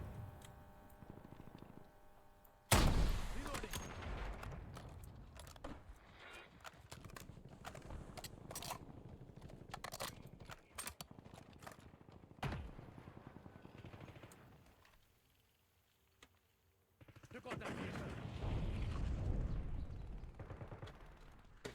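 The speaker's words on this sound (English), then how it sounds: "Just a very, very slow fire weapon" A slow-firing weapon shooting in the game Warzone, widely spaced single heavy shots with sharp onsets and lingering tails, loud and near, a rhythmic pattern with a quiet gap near the end.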